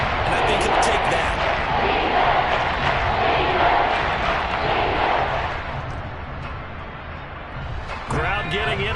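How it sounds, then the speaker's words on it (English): Stadium crowd in a Madden football video game roars as a steady loud wash, swelling and then easing slightly toward the end, with a game announcer's voice talking over it. "Crowd getting in it a bit already."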